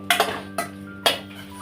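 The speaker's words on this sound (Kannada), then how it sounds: "ನೋಡಿ ಈ ಥರ ಚೆನ್ನಾಗಿ ಕಲಸಿ ಸಾಸ್ ಹಾಕಿದ್ಮೇಲೆ" Metal spoon clanks against a pan three times while egg manchurian is tossed in sauce, sharp close strikes spaced apart over a quiet hum.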